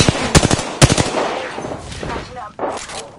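Bursts of automatic gunfire in the Apex Legends shooter on PS4 Pro, rapid loud volleys in quick clusters, then a trailing rumble and a final burst near the end.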